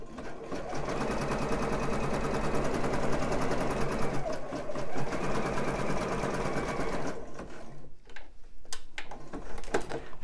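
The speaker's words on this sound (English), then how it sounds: "Hold it down and sew over the join and carry on to the end." A domestic sewing machine runs steadily over an elastic join on a bra band, a loud continuous whirring drone for about seven seconds before stopping, followed by a few scattered handling clicks.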